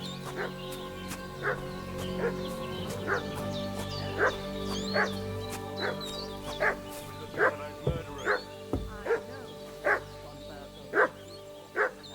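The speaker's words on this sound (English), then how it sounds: "What's that dog making such a fuss about?" A dog barking repeatedly in the medieval game Kingdom Come: Deliverance II, a steady series of sharp woofs at mid distance over ambient background tones.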